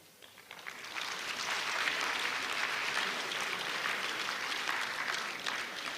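Sustained applause from a large audience at a graduate induction ceremony, rising within the first second to a steady, dense clatter of many hands that holds evenly throughout with no speech.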